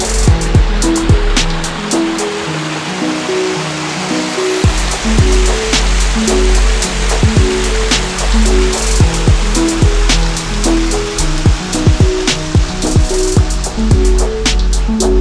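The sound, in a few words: river water flowing, Srednyaya Khortytsia river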